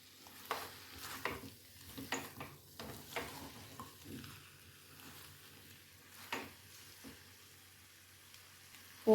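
Raw jackfruit and potato curry sizzles in a pan while a spoon stirs it, bringing soft scrapes and bursts of frying at irregular intervals, with quiet moments between strokes.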